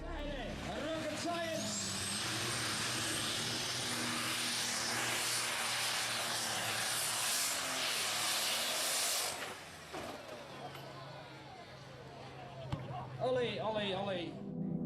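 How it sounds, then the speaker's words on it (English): A triple-turbo DAF-powered truck at a truck and tractor pulling event roars loudly with a rising turbo whine for about nine seconds, then cuts out, leaving crowd noise and voices. "Their truck boasted a powerful 3-turbo DAF engine, known for delivering exhilarating performances."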